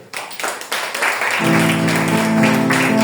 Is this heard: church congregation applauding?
yes